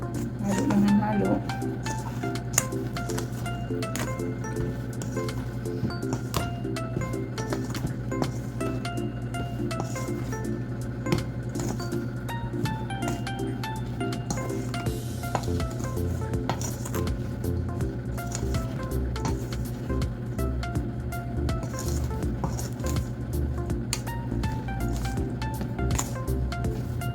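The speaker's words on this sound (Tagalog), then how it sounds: "ihalo-halo na natin yung ang ating harina. So ayan, halo lang ng halo" Binangkal dough of flour and egg being stirred by hand, with soft wet squishing and sticky slaps repeating in an uneven rhythm over a steady low hum, continuing without pause.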